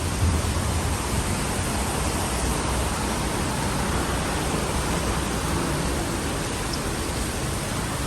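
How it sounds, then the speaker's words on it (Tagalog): Heavy, unbroken rainfall in Singapore, a dense steady roar of water that holds at the same loud level from start to finish with no pause and no voices. "Mula kaninang umaga, ganito yung ulan, walang tigil. At ito din kalakas."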